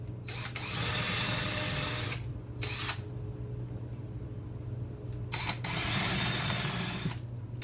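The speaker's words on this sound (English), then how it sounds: "I'm going to drill 2 pilot holes, one there" A drill bores pilot holes into wood in several short bursts separated by pauses, fairly close, with a low steady hum underneath.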